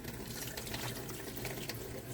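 Broth pours into a cast iron Dutch oven with a close, steady splashing and gurgling of liquid that carries on throughout.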